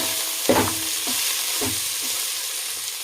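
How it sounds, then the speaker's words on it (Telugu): Green chillies, coriander, mint and curry leaves fry in a pan with a steady close sizzle, while a spoon scrapes and stirs in several soft strokes. "ఇప్పుడు కట్ చేసిన పచ్చిమిరపకాయలు, కొత్తిమీర, పుదీనా, కొంచెం కలమాకు, ఇవి కూడా కొద్దిగా సేపు వేయించుకుందామండి."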